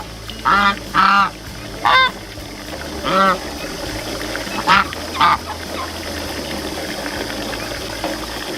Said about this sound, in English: The geese are taking turns having a bath